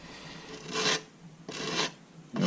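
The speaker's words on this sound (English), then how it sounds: "So this is, what is it, 180? 180 grit sandpaper." A 3D-printed RC body for a Tamiya Blackfoot CR-01 is sanded with 180 grit sandpaper on a small sanding block in three close, raspy strokes separated by brief pauses, with no talking.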